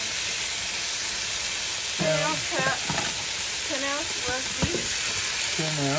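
Chopped bell pepper, mushrooms and half an onion sizzle steadily in a hot pan, a constant bright hiss beneath intermittent talking close by.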